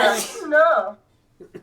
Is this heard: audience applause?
no